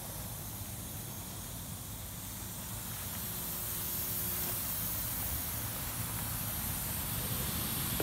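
Air hisses steadily out of a Sunfish sailboat hull through a hole left by a missing rivet, a continuous close, loud spray-like rush that holds constant throughout.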